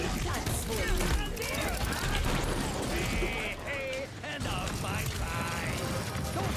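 Gunfire in the Paladins online shooter game: dense, continuous shooting and mechanical clatter forming a loud, busy game mix, with a person talking over it.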